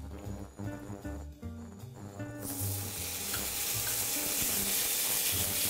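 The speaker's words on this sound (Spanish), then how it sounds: "¿Ves? Ya nos empieza a freír" Minced meat frying in a very hot pan with oil, a steady dense sizzle that swells loudly halfway through and holds, with brief stirring clatter at the start.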